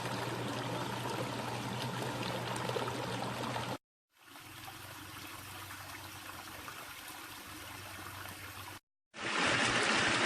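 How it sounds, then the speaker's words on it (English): Continuous rushing and splashing of water tumbling down a pondless waterfall feature in a garden, a steady outdoor flow in three takes separated by short gaps, with no voices. "sound of moving water is one of the most relaxing sounds in nature."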